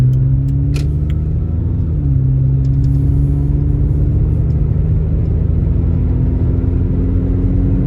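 A 1989 Toyota MR2 with a 1.6-litre four-cylinder engine and 140K miles pulls while driving, a loud steady engine drone heard from inside the car that shifts in pitch near the start and then holds.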